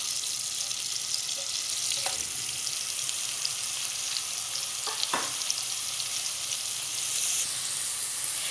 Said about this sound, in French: dans une autre poêle, j'ai mis un morceau de beurre. Je vais ajouter l'oignon haché.